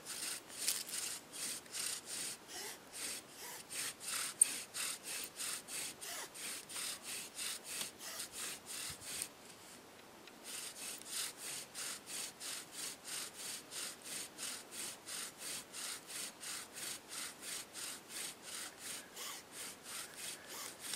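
A hand-made bow drill spins against wood to build friction dust, giving a steady back-and-forth rasping stroke repeated rhythmically and close, with one brief pause midway before the strokes resume.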